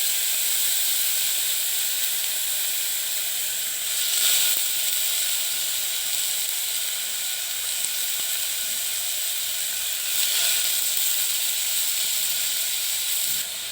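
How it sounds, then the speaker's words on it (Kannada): Washed rice fries in ghee for jeera rice, giving a steady bright sizzling hiss that swells slightly at moments, close and continuous with no talk. "ಈ ಅಕ್ಕಿಯನ್ನು ಈ ತುಪ್ಪದ ಜೊತೆ ಸ್ವಲ್ಪ ಫ್ರೈ ಮಾಡ್ಕೊಬೇಕು."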